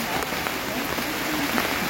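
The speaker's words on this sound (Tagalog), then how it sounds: "Sobrang lakas ng ulan." Heavy rain pours down steadily outdoors, a dense broadband hiss that stays even and loud throughout with no break.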